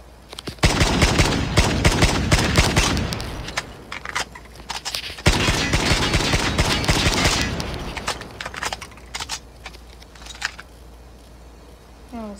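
Rapid shots from a marksman rifle in Call of Duty Mobile, heard as two loud sustained runs of repeated firing that thin into a few scattered shots and then fade away.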